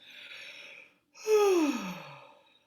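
A single voice takes a breathy intake, then lets out a loud, exaggerated fake yawn that slides downward in pitch, performed as a throat-opening warm-up before singing.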